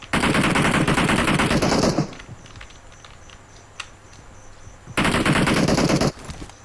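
Rapid automatic gunfire from a shooting video game rattles loudly in two long bursts, with a quieter stretch of faint in-game noise between them.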